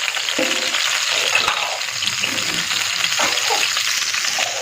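Marinated chicken tawa boti frying on a hot griddle, giving a steady broadband sizzle with a few faint scrapes and stirring clatters, close and continuous throughout.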